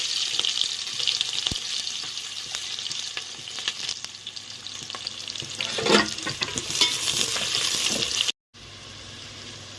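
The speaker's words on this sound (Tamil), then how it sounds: "வெங்காயம் வதங்கிக்கிட்டு இருக்கு." Onions sizzle steadily as they sauté in ghee with cinnamon, cloves, cardamom and bay leaves in a home kitchen pan, with stirring scrapes and a brief tap-water sound, close and continuous and free of speech.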